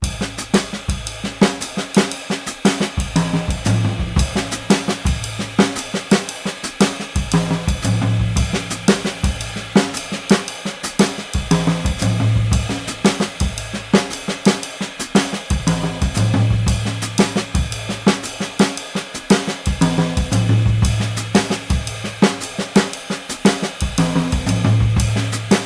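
Jazz drum kit lick, snare and cymbal phrasing moving across two tom-toms, repeated several times in a steady swinging pattern, loud and close with continuous ride cymbal wash.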